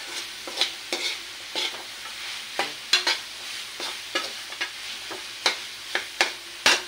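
Fried rice with hotdog stirred in a hot pan: steady sizzling frying under a series of sharp, close scrapes and clacks of the spatula against the pan, about two per second, with no talking.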